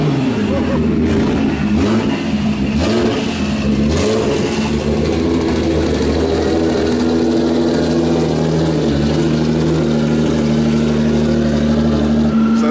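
Engine of a 1000hp stroker Nissan R35 GTR Formula Drift car running loud and close, a deep steady idle with rough revving early on, and faint voices under it.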